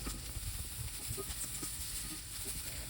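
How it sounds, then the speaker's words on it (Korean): Sliced onions stir-frying in a little olive oil in a frying pan, a continuous soft hiss and sizzle with faint scattered pops, close and fairly quiet. "후라이팬에 올리브 오일 살짝 두르고 채썬 양파를 먼저 볶아줍니다."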